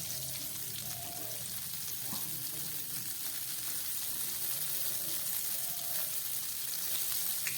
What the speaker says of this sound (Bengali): এবার এই তেলের মধ্যে আমি দিয়ে দিচ্ছি কিছুটা সর্ষের তেল।